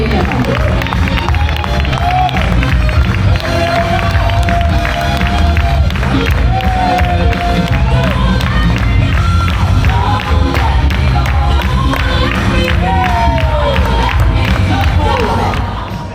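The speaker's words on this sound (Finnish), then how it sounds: "Ja annetaan isot aplodit meidän upeille seniorikuulumme finalisteille." Applause and cheering from a crowd at a dance competition for senior dance finalists, a dense continuous roar of clapping and shouts across the whole stretch, loud and close, with babble and voices mixed in.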